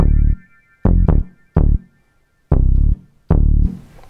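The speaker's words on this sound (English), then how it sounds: "And we've got this bass here." Deep sampled bass notes played on an Akai MPC One, several short, heavy, booming plucks in an uneven rhythm with brief gaps between them and a faint hiss at the end.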